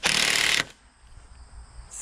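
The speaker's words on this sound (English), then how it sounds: "Why don't you come over here with the drill gun?" A cordless drill drives a screw into timber on a post and beam firewood shed, one loud burst of whirring that stops abruptly, followed by quiet outdoor ambience.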